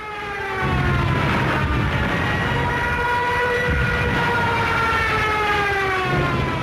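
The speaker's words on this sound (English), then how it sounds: "The German Junkers 87 dive bomber, nicknamed the Stuka and fitted with a screaming siren." A loud, sustained rising wail of a German Junkers 87 Stuka dive bomber's siren, with layered whining tones over a heavy roar that swells and stays intense.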